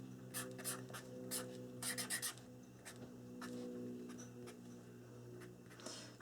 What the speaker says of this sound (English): I label it both sides.